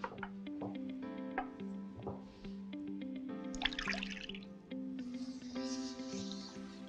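Water pours briefly into a pan of sugar for caramel on the stove, a short faint splash and trickle under quiet background music.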